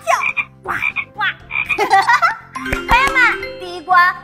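Cartoon-style frog croaks in a children's animal jumping game, several croaks mixed with bright, child-like voices and a light chime.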